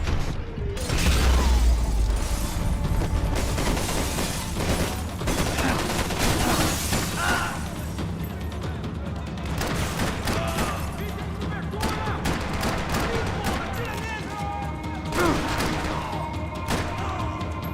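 Automatic machine gun fire in the video game Max Payne 3 rattles in dense, rapid bursts with sharp mechanical clatter, loud and close, continuing almost nonstop with brief lulls throughout.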